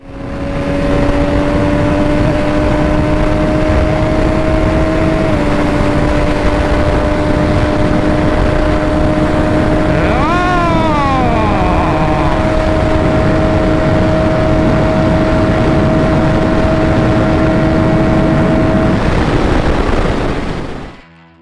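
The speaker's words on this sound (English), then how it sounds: "The sound of the Superveloce is similar to the F3RR we have already tested." MV Agusta Superveloce 800 motorcycle engine, loud and close, holding a steady drone that steps up in pitch, with a brief rising rev sweep midway, then cutting off at the end.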